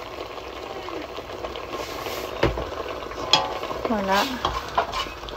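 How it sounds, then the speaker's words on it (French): A spoon stirs harira soup in a pot after ginger, cinnamon, pepper and salt are added, giving soft scraping and swishing strokes over a low kitchen background, with one brief spoken word. "On mélange bien."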